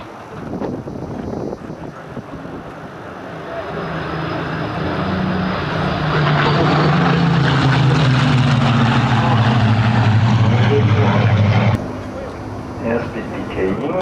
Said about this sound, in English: the Bearcat, the Joker, is going into land first